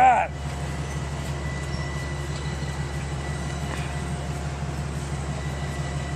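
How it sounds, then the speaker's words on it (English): A train pulls into Croton Harmon station, a steady low rumble of wheels and diesel engine carrying on for several seconds after a brief opening tone, with no clear talk. "And there we can see the train arriving."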